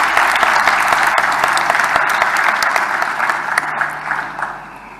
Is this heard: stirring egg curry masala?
no